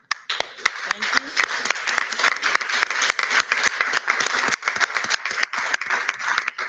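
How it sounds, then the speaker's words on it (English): Sustained audience applause at a public school board meeting honoring teachers, dense steady clapping from a room full of people throughout, no words spoken over it. "So let's give our teachers a round of applause."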